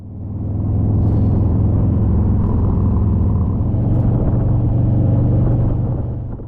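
A rented Harley-Davidson Road Glide Special rumbles steadily under way on a snowy road trip, a deep, loud, continuous engine drone mixed with wind, swelling in at the start and easing slightly at the end.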